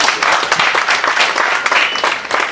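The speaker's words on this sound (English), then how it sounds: "Please clap again." An audience at an African Traditional Medicine Day celebration claps, a lively, close burst of hand clapping with distinct individual claps standing out across the short stretch.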